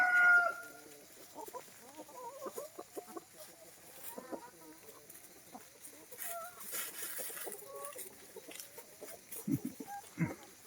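Several chickens cluck and murmur close by in scattered bursts, with a rooster's crow rising partway through over a quiet forest yard.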